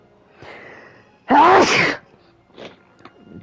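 A single loud, sharp sneeze bursts out midway, preceded by a soft intake of breath and followed by faint rustling and quiet movement in a room.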